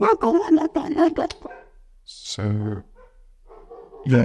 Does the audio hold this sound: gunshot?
no